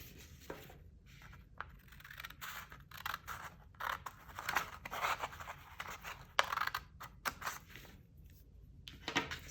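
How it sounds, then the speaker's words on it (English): Scissors snip repeatedly up through a sheet of folded paper toward its center, a close, quiet run of crisp cutting strokes with short pauses between them and no voices. "And we're gonna cut upward to the center of the paper."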